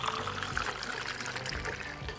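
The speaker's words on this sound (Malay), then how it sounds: "so lepas tu kita tuangkan air sirap tadi" Homemade syrup water poured from a container over swollen basil seeds, a steady liquid splash and trickle running continuously, close up, with faint background sounds.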